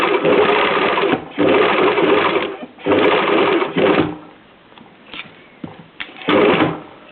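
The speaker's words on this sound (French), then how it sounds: "vous cousez plus lentement ou vous y allez avec le volant de la machine" A sewing machine stitches bias binding over a fabric edge in several separate runs, each burst of steady, close whirring stopping and starting again with quieter handling noises between.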